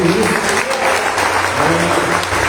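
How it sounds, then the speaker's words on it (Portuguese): Sustained applause from a church congregation during a Portuguese-language worship service, dense steady clapping filling the whole stretch at full volume with a faint murmur of voices beneath. "Você pode aplaudir o Senhor por isso?"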